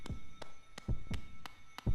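Creepy heartbeat from the White Palace dream area in the Hollow Knight game (Grimm Troupe): about five slow, deep, thudding beats at an even pace, each with a faint high click, set over a low droning hum, with no voices.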